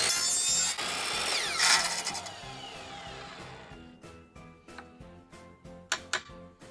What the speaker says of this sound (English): So one of the easier ways I find to cut PVC is with a chop saw.